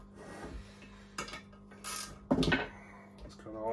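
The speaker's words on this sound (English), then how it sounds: "it's good to have a decent ratchet. Does break them loose pretty good." A hand ratchet wrench makes metal ratcheting and rasping clicks in short bursts with pauses between, close by, loosening bolts on a Mitsubishi Galant VR4 intake manifold.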